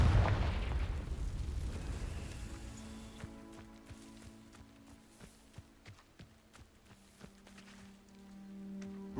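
A Confringo fire spell explodes in Hogwarts Legacy with a loud, deep burst at the start that decays into rumbling debris, followed by softer magical tones and scattered small pops.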